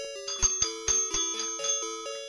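Pokémon Silver video game music plays as a chiptune bell jingle, a run of bright chiming notes in a steady rhythm over a held synth tone, clear and moderately loud.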